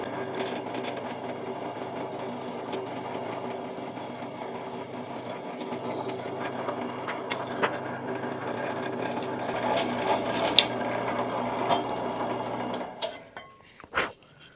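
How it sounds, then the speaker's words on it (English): A drill press fitted with a roughly 1/8-inch bit bores into a wooden workpiece with a steady, even motor whir for about thirteen seconds, then winds down and stops, followed by a couple of short clunks. "we're just going to drill right into here real quick"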